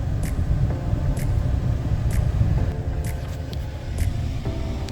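A 454 big-block engine runs close by with a steady, deep, loud rumble that holds an even pitch throughout, with no talking.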